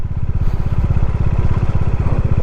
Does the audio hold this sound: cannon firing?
no